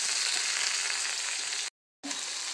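Mustard seeds, ginger, green chilies, garlic and shallots frying in hot oil, a steady close sizzle broken by a brief silent gap before resuming.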